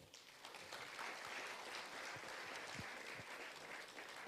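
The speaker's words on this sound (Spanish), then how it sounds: "un aplauso para el Señor" Steady, dense applause from a congregation during a church service, an even wash of many hands clapping that holds throughout, heard alone at a modest level.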